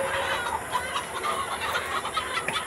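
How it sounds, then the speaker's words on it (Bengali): Chickens in a poultry shed during vaccination, clucking and squawking in irregular overlapping calls over a constant background hum, close and fairly loud. "মুরগি ফ্লোরের মাঝখানে আটকানো হয়েছে।"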